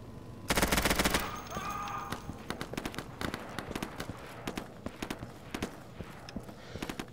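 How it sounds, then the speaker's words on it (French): In the video game Insurgency, a loud burst of gunfire opens the scene, then rapid bursts and single shots crack at varying distances, some near and some farther off, amid a busy battle. "Oh, ça tire."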